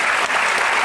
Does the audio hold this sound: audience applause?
yes